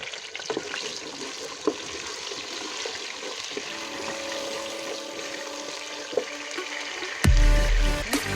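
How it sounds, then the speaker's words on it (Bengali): Potatoes frying in a pan while cooking biryani, a steady close sizzle with scattered pops and crackles, ending in a louder, fuller burst of frying. "আলুটা ভাজা হয়ে আসছে।"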